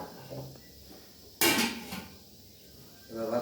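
A pot of rice set down on a home stove to cook, a sharp metallic clank of the pot followed by a short scrape, with quiet kitchen noise and a faint voice around it.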